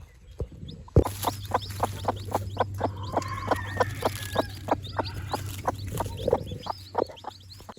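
A hen clucks in a steady rhythm of short, regular calls, with faint higher peeps from about ten or eleven newly hatched chicks and a low hum behind them.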